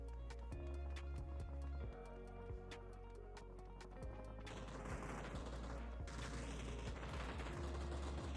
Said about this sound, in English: I can barely distinguish if the gunshots are coming from the left or the right.